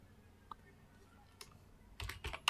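Someone types a greeting into a chat prompt on a computer keyboard: a few isolated quiet keystrokes, then a short, faster burst of clicks ending in one louder key press.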